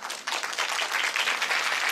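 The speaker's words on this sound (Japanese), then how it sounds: "この時間同じ空間を共にできる喜びをよろしければ拍手で分かち合いたいと思います。" An audience applauds at a film screening in a Yamagata cinema as the director stands to be introduced: a dense, steady wash of many hands clapping together, fairly loud and sustained, with no voices over it.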